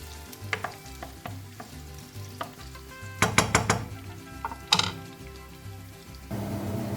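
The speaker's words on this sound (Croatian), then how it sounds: "kada se ulje zagrejalo, ubacujemo luk, šargarepu i ovaj peršun i kratko ćemo to da propržimo" Onion, carrot and parsley fry in hot oil, crackling steadily while a utensil scrapes and knocks against the pan in several loud bursts, with some metallic clinks.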